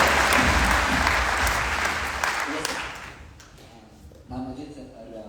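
Enthusiastic applause from an audience at a live motivational business event, loud and dense at first, then gradually thinning and fading before a voice speaks over the tail end.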